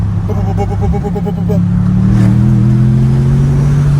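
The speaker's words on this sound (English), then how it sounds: "you can hear the turbos on that one" A turbocharged car engine revs up close and loud, its tone climbing and holding steady as it accelerates, with turbo whine riding over the engine note.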